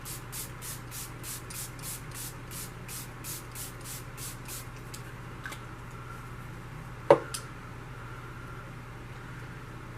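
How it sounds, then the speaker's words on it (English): Milani Make It Last setting spray misted in a quick run of short, rhythmic pumps close by, then a few scattered sprays and a single sharp click, over a faint steady hum with no talking. "So I do not have a setting spray, so I'm going to be using my Milani Make It Last."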